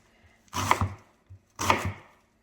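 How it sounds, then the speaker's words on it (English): A knife chops a cabbage into rough chunks on a board with two heavy, crunchy cuts about a second apart and a small tap between them, close and clear, with no talking. "now for the cabbage, I'm just going to roughly chop it into chunks."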